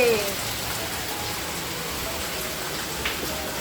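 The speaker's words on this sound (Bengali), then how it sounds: "ওইদিকে যে বৃষ্টি চলে এসেছে কি জোরে হচ্ছে" Heavy rain pours down by a house balcony in a dense, steady roar, broad and close, with a brief squeaky sound at the start.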